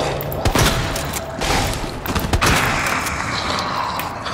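Rapid bursts of gunfire from Resident Evil 2 Remake crackle over a dense, steady mix of mechanical clatter and booms, loud and continuous throughout.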